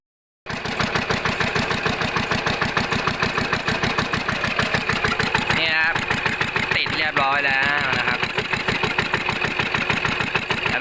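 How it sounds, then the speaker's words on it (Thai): A Yanmar TF115 single-cylinder diesel engine fitted with a side exhaust kit starts and runs with a fast, loud, even chug, revving up twice in the middle before settling back, close to the listener. "เราก็จะประกอบ แล้วก็ลองสตาร์ทเบิ้ลเครื่องดูเนาะนะครับ"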